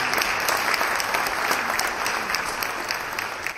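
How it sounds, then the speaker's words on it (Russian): Ovation in a conference hall after a nomination to Tatarstan's State Council: dense, sustained applause from a large crowd, steady and loud throughout with no talk over it. "Это решение зал встретил овацией."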